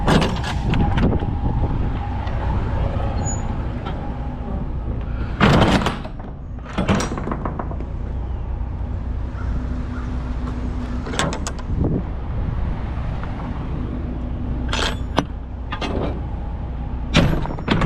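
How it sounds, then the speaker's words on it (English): Truck trailer doors swinging shut during a roadside stop, several loud bangs and rattling thuds at intervals over steady engine and wind noise, with no talk. "We're gonna try to get these doors closed up before he get out of here."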